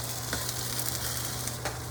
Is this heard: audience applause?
no